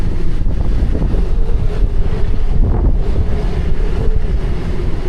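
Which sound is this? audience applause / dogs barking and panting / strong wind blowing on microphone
strong wind blowing on microphone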